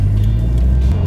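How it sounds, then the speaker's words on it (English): Low, steady engine rumble and road noise from a 2019 Toyota 86 TRD Special Edition sports car driving around town, heard from inside the cabin as a brief, constant drone. "I'm hearing a lot of road noise, a lot of engine noise as I'm going around town"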